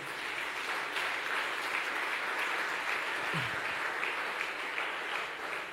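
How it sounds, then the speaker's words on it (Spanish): Sustained applause from a large church congregation, a dense, even wash of clapping that continues steadily throughout without pause. "Denle un fuerte aplauso al Señor."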